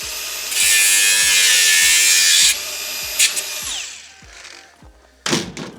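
A power tool cuts off part of an Ifor Williams trailer hinge with a loud, high, close whine that lasts about two seconds. A faint scraping follows, then a sharp clunk near the end.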